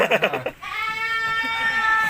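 A three-month-old goat bleats once, a loud, close, wavering cry held for over a second, right after a man's brief speech.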